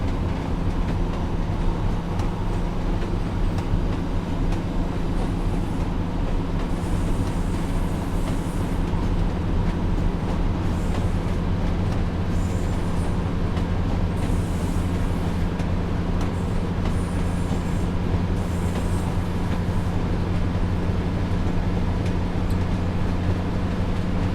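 A Northern Pacer diesel train in Train Sim World 4 accelerates hard with a steady, droning engine rumble and rolling wheel noise, continuous and loud throughout with no talking.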